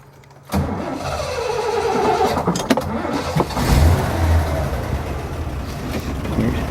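A 1979 Toyota Land Cruiser FJ43 engine with a MagnaFlow muffler cranks and catches, then settles into a low, steady idle rumble close by, with a few clicks early on.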